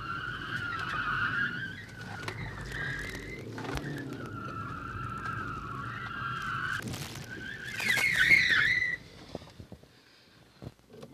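A car brakes hard with ABS, tyres squealing and chirping in long tonal bursts over the engine, peaking loudly in a final skid before settling to quiet.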